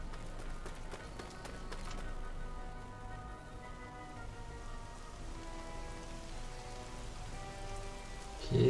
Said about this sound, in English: Okay, the rain started.